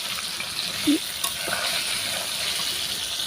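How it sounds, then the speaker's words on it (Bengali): Many eggplant slices fry together in a pan with a steady, soft sizzle and crackle, joined by a brief utensil scrape partway through. "অনেকগুলি বেগুন একসাথে আমি ভাজি করছি"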